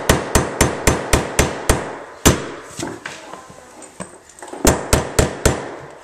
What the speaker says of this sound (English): So we'll take a nail punch, put the head of it right on the head of the cleat,